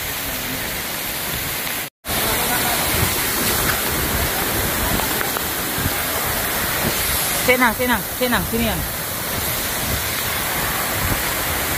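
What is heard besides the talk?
Madakaripura waterfall and river flowing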